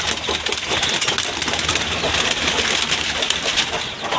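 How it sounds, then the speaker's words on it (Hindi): Pigeons coo steadily on a farm, a dense, continuous chorus of soft throaty calls that stays fairly loud throughout, with faint rustling and occasional wing sounds mixed in. "अब मैं यहाँ से कबूतर पकड़ूंगा।"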